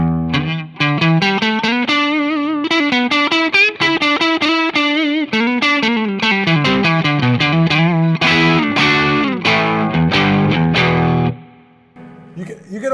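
Distorted electric guitar through a Mad Professor Royal Blue overdrive pedal, neck pickup, plays a fast, busy melodic run with overdriven tone, loud and continuous, then trails off near the end.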